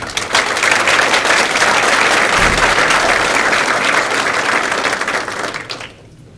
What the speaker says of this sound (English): Please give yourself a big round of applause.